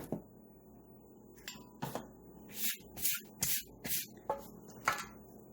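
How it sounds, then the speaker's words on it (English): Several short bursts of nonstick cooking spray hiss into a pan in quick succession, with a few light clinks of kitchenware around them. "I'm going to do that"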